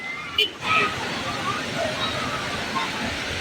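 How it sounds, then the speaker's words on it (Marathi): Bhaje waterfall near the Bhaje caves pours with a constant broad rushing roar, close by, with a brief burst of voices near the start. "हे आज भजे धबधबा आहे बघा किती मस्त आहे इकडे"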